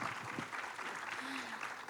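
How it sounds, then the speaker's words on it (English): Audience applause at a youth volunteer forum, soft and fairly distant, a short wash of clapping with faint voice-like murmur mixed in. "Round of applause"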